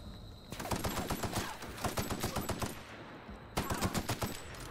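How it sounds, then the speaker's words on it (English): Rapid automatic gunfire from an enemy in The Outer Worlds, bursts of sharp repeated shots in quick rhythm, loud and close, pausing briefly before another fast volley. "this guy is suppressing me with his fire here"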